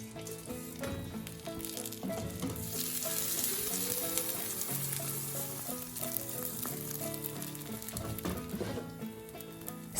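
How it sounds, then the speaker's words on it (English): Egg poured onto pepperoni in a waffle maker sizzles and crackles steadily, a close, continuous frying hiss with light popping, heard alone over soft background music. "Pour the egg onto the pepperoni."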